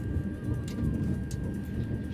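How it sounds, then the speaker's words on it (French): Heavy rain in the Train Sim World 2 video game, with a TGV train sitting at a station, makes a steady dense hiss and patter and a low rumble throughout, with no one speaking. "il pleut à mort"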